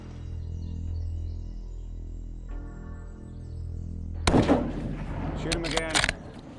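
A rifle shot during a black bear hunt cracks out loud and close as a sharp broadband burst, followed by a couple more sharp reports and rustling over a low steady hum.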